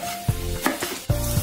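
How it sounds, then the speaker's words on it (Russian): Garlic scapes fry in a pan, giving a steady sizzle broken by a few stirring scrapes, close and fairly loud with no voices. "Пока жарятся чесночные стрелки"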